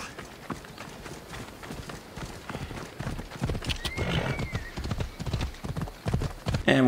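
Horse hooves clip-clopping in the video game Assassin's Creed Odyssey, a steady trotting rhythm that grows louder toward the end, with a brief whinny in the middle.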